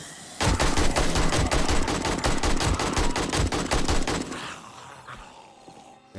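A rapid automatic burst of gunfire from the game 7 Days to Die rattles loudly for about four seconds, then stops abruptly and leaves a fading tail.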